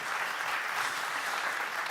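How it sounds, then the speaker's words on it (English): An audience at a DuckCon conference session breaks into sustained applause, a dense, even clatter of many hands clapping at once with no voices standing out. "Extra applause."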